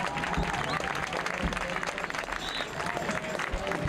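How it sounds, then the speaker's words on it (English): At a high school football game, applause for the senior football players, cheerleaders and managers, heard as a busy, loud wash of clapping and crowd noise with some voices mixed in, continuing steadily throughout. "Can we have a big round of applause for our senior football players, cheerleaders, and football managers?"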